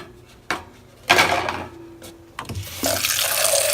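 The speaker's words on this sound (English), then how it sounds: "So that I'm going to get some water." Water runs from a tap into a sink, switched on and off in bursts, with hot and then cold water drawn, splashing steadily close by with a few clunks between runs.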